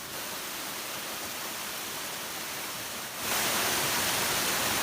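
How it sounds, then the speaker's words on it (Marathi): A forest stream with small waterfalls rushes in a steady, broad wash of water noise that grows louder and brighter partway through, with no voices. "प्रत्येक ठिकाणी छोटे छोटे धबधबे तयार झालेले दिसत आहेत"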